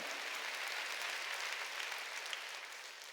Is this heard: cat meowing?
no